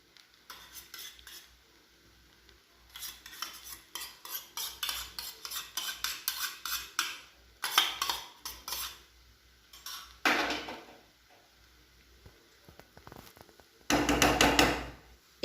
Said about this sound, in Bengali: এবার আমি এর মধ্যে বড় চামচে 2 চামচ ঘি দিয়ে দেব।